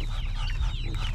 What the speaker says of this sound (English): That duck there quacking right in front of you